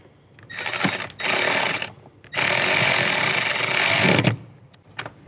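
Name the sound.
tightening bolt with 10mm socket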